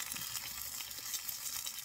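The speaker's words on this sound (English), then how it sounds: "That frying that's happening right now." Eggs sizzle and fry in a stainless steel pan, a steady bright crackle that stays at an even level throughout, close up with no talking.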